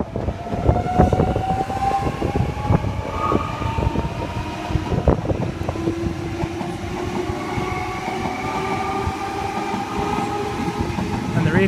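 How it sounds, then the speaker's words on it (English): Sydney train pulling out of platform 4 at Glenfield, a Campbelltown service with M-set and other cars, rumbling and clattering close by with a rising electric motor whine and steady wheel noise throughout. "Campbelltown service now departing platform 4, the front 4 cars M7."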